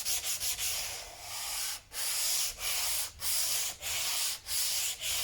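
A wooden door is hand sanded with fine grit sandpaper after 120 grit. Close, steady back-and-forth rasping strokes repeat in an even rhythm with no talk.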